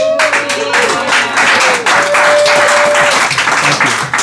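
Audience applause at a meeting, a loud dense wash of clapping from a room full of people that continues steadily throughout with a few cheers and voices mixed in.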